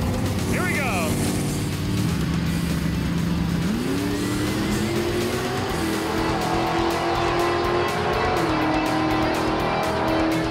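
A 1959 Chevrolet Corvette makes a drag racing pass at a crowded strip, its engine roaring loud and steady with rising pitch shifts as it accelerates, under a continuous wash of crowd noise and announcer talk.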